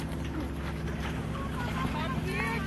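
Passing boats on the water at a summer campsite give off a loud, steady engine drone with some wind buffeting, while people talk over it nearby.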